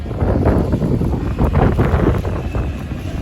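Steady, loud wind buffets the microphone in a constant rushing roar with no pauses.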